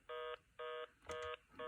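Touch-tone telephone keypad being dialed to call a phone: four crisp DTMF beeps in a steady rhythm, each about a quarter second, close and clear with no talking.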